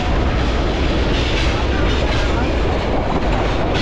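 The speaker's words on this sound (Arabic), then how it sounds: "طلع القطار،" Passenger train travelling through Bangladesh from Dhaka toward Sylhet, a steady loud rumble of the carriage rolling along the rails with constant broadband noise, heard from inside throughout.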